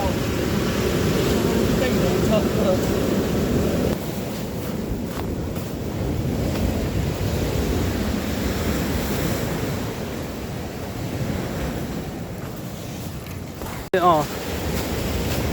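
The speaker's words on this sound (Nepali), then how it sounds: "कस्तो ठुलो छाल आइरहेको छ" Large ocean waves roar and wash continuously onto the shore with heavy wind buffeting the microphone; a brief sharp knock near the end.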